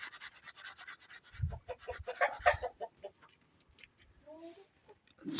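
Chickens cluck and chirp close by, with short bursts of scratching and rustling in between and a few higher peeping calls toward the end.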